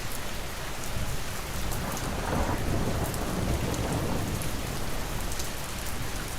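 Steady heavy rain pours down throughout, with low rumbling thunder rolling underneath; dense, continuous and fairly loud, no voices.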